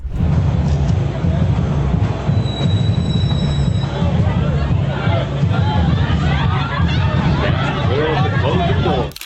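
Brooklyn subway train rumbling loudly with high-pitched wheel squeals early on, steady rail noise and a murmur of voices underneath throughout.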